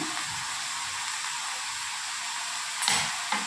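Ridge gourd and potato being stirred in a pan on the stove, a steady soft sizzle with light scraping, ending in two brief louder clatters near the end.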